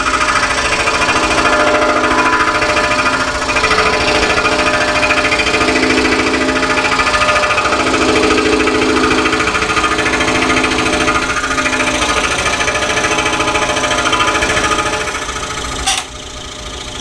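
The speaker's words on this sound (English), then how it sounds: "I like the way these blades are cutting." A scroll saw fitted with a number 5 Pegasus MGT modified geometry blade cuts wood, a loud, continuous rapid buzzing chatter close by that drops off near the end, no talk.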